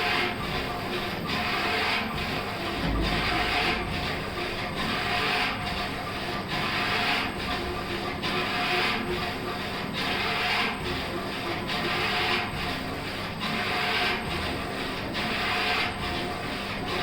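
A fully automatic saree rolling and polishing machine runs with a steady mechanical clatter and regular rhythmic clicking and thumping, loud and continuous throughout with no talk.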